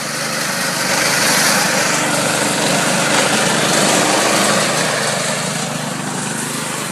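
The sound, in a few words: slit seeder running on a lawn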